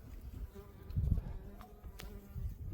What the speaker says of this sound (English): That is lots of bees.